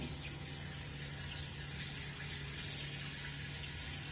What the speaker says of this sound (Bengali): আর সবজিগুলো সব এই যে শাকগুলো ধুয়ে ধুয়ে রেখে দিচ্ছি